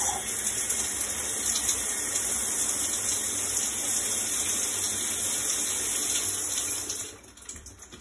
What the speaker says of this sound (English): Another place you might get water is from the shower in the bathroom.